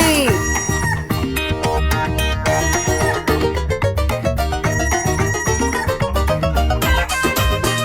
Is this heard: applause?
no